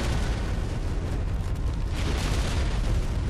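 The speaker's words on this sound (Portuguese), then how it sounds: "Então eu só posso atirar com esse canhão na frente." A cannon in the dinosaur survival game ARK booms in a dense, continuous roar of blasts, loud and close throughout with no talking over it.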